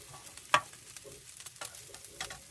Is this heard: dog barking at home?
no